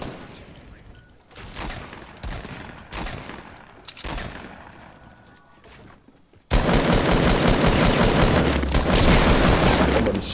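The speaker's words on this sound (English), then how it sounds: "Someone shooting at our guy" Fortnite gunfire crackles in scattered bursts, then turns into a loud, continuous barrage of rapid shots in the second half, with no talking.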